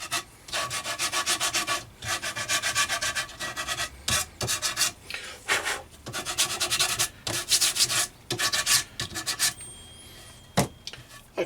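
Steady back-and-forth strokes of sandpaper rasping on wood, close and loud, in repeated bursts with brief pauses between runs.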